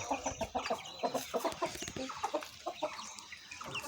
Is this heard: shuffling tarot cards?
no